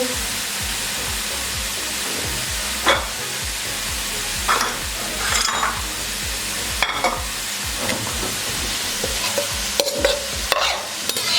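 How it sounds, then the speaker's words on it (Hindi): Onions fry to golden brown in a pan for chicken korma, giving a steady, close sizzle throughout with occasional scraping stirs of a spoon against the pan. "प्याज को हमने अच्छे से गोल्डन होने तक फ्राई कर लिया"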